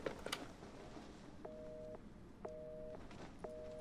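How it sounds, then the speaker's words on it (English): A telephone in the game Resident Evil 7 gives repeated electronic tones, about one a second and each lasting roughly half a second, over a steady low hum. "Put the phone down, Ethan."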